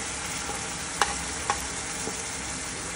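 Onion and garlic masala for dhaba-style palak paneer frying in a pan, a steady sizzle with a few sharp spoon scrapes and taps as it is stirred, no talk.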